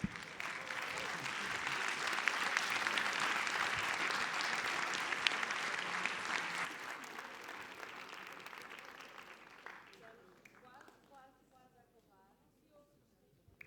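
Audience applause at a Christmas astronomy conference, a sustained wave of clapping that fades over several seconds into a few scattered claps and near quiet.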